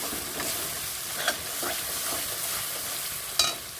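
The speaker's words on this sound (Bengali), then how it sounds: "এক চামচ জিরে জিরের গুঁড়ো আর কি তো এটা দিয়েও বেশ ভালো করে কিছুক্ষণ আমি কষিয়ে নেব" Chicken stir-fried with cumin powder in a pan gives a quiet, steady sizzle broken by intermittent scraping strokes of a spatula and one sharp metallic clink near the end, with no voices.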